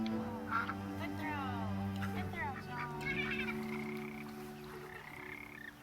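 Ducks quack and call repeatedly in the video game That Dragon, Cancer, in warbling bursts over a steady tonal music bed, with faint voices mixed in.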